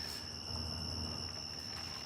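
A warm night on the way home, filled with a steady, unbroken chorus of chirping insects that hums on without pause.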